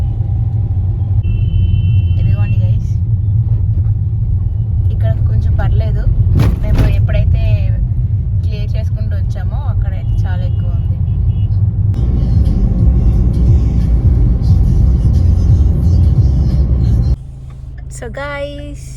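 A car rolls along a road in traffic on a long journey from Kolkata to Kakinada, with steady low engine and road rumble throughout, passing vehicles and occasional horns, and a voice talking over it; the noise drops slightly near the end.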